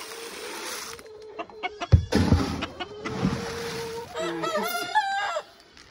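Farm roosters and chickens crow and cluck close by, with a loud crow stretching over the middle and rapid clucking near the end, over a steady background hum.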